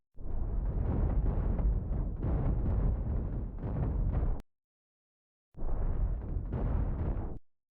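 Ship weapons pound away in the space combat game Cosmoteer, producing long, loud stretches of rumbling explosions and gunfire. The roar breaks off into a full second of silence, then resumes in a final heavy burst.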